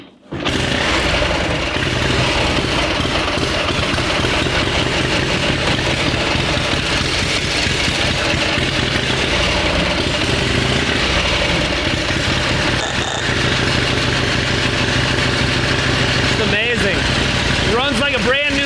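A 1919 Harley-Davidson motorcycle engine catches abruptly and settles into a steady, loud idle that runs close and unbroken for the rest of the stretch.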